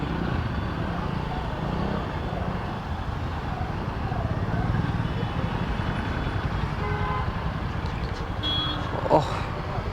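Heavy road traffic surrounds a motorbike rider in a city: a dense, steady rumble of engines with a short horn toot and high beeps near the end.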